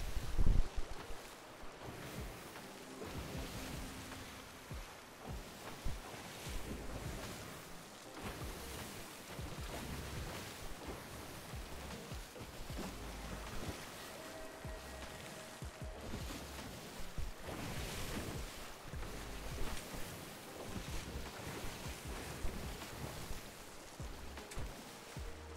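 A sailboat moves through open water, with steady rushing waves against the hull and gusting wind buffeting the microphone throughout, loud and continuous with no talking.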